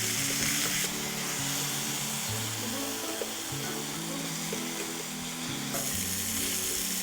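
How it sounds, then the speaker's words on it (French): Rolled sole fillets frying in hot olive oil give off a steady, close sizzle and crackle that holds fairly even throughout, with a few louder bursts of spatter. "Notre huile est bien chaude. On va mettre tout de suite les filets de sole roulés."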